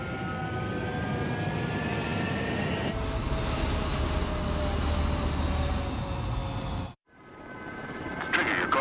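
Fighter jets taking off from a runway in Ace Combat 7, a loud sustained engine roar with rising whines that builds, then cuts off abruptly before a fainter jet whine returns.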